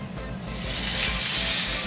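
Meat drops into a very hot pan and bursts into a loud, steady sizzle of searing, the hiss swelling up within half a second and holding close and strong.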